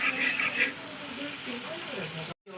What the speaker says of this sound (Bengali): আমি একে একে সমস্ত কুমড়োগুলোকে দিয়ে দিলাম। তো চলুন এখন ভাজা হোক